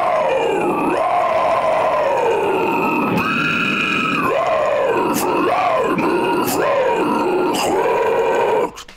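A voice performs harsh, distorted vocal screams, a run of gritty, pitch-bending growls and squeals that rise and fall in several bursts, loud and close, with no spoken words.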